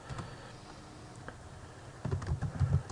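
Fingers type a short caption on a computer keyboard, a soft irregular run of key clicks that grows busier toward the end, close and quiet.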